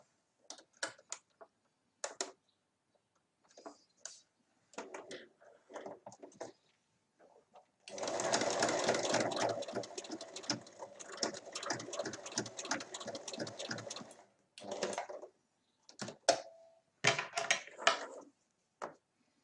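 A sewing machine topstitches a small half-moon zippered pouch in one steady run of rapid mechanical chatter lasting several seconds, framed by scattered clicks and handling of the fabric before and after, fairly quiet overall.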